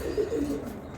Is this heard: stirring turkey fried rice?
no